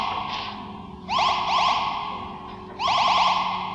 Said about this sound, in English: the beeping noise the Zarbi make gets old fairly quickly.